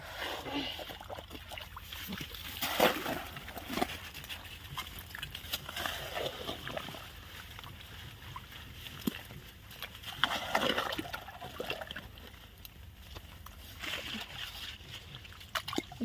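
Irrigation water pours steadily through a dirt channel into a maize field, a continuous rushing and sloshing with a few louder splashing surges and faint voices in the background.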